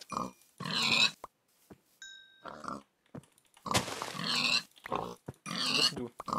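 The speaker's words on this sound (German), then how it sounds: "Schwein." A pig in a video game gives repeated oinks and grunts in separate bursts with short silent gaps between them, along with a few short electronic beeps.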